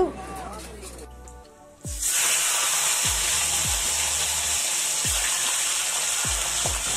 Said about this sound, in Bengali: মাছ কিনে চলে এসেছি, এখন মাছের মাথা ভাজা হচ্ছে,